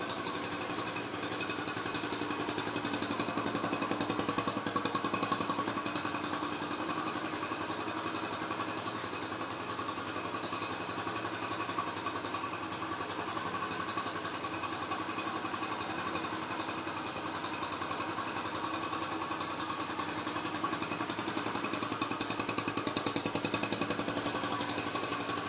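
A motorcycle engine idles steadily for the whole stretch, a constant mid-pitched hum with fine vibration and no revving or talk over it.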